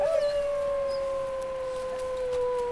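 A dog in the Chemal district of the Altai Mountains, Russia, howls along to a sung note in one long, steady, drawn-out wail held at an even pitch close by.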